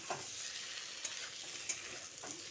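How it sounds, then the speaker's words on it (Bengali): Potato and eggplant fry in a pan over low to medium flame without water, a soft, steady sizzle broken by a few light scraping strokes of a spoon stirring the pieces. "লো টু মিডিয়াম ফ্লেমে এইভাবে নাড়াচাড়া করে আলুটা আর বেগুনটা রান্না করে নেব"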